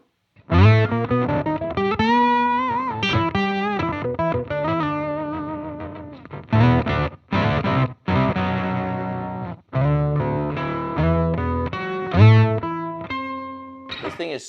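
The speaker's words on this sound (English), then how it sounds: "now let's engage this octave plus, this octave up" Electric guitar played through a distorted octave-up effect, notes and chords ringing with a thick, doubled high tone and brief pauses between phrases.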